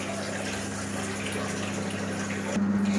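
Water is poured into a simmering chicken gravy made with yogurt-marinated chicken, a continuous close splashing trickle that grows slightly louder near the end, with no talking.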